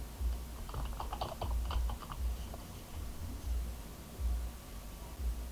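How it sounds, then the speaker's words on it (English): Quick, light clicks of typing on a computer keyboard come in short uneven bursts, heard close but soft over a low background hum. "And now you can start typing your phrase."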